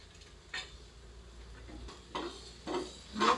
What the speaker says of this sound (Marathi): परतून घ्यायचं 2 मिनिटं